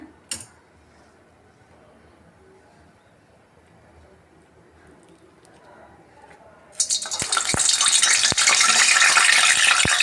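Vadas (paakam garelu) going into hot oil: a quiet stretch, then a sudden loud, steady sizzling hiss with sharp crackles that continues to the end.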